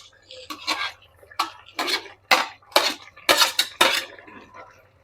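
Tomatoes added to a pan and stirred for Bengali steamed rohu fish, a series of metallic spoon scrapes and clanks in irregular strokes over a faint low hum.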